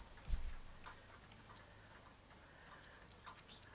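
A clock ticks faintly in a quiet indoor room, with a few soft, uneven ticks standing out against a low background hum.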